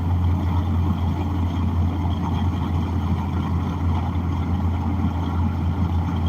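A truck driving along the road gives a steady, loud low engine drone with constant road rumble, unbroken and with no voices.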